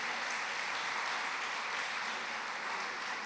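Dense, even audience clapping at a college convocation ceremony, a steady wash of many hands heard from within the crowd, continuous throughout with no pauses.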